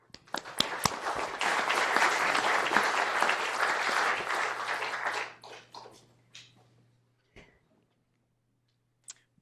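Audience applause welcomes Daniel Hartwig at a Stanford archives celebration, dense and sustained for about five seconds before thinning to a few scattered claps and fading out.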